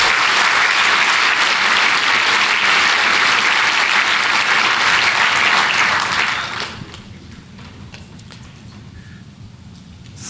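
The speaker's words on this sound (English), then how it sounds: "A huge round of applause for Yamin." Loud, dense applause from a keynote conference audience rolls on for about six seconds, then drops abruptly to scattered faint claps and room noise.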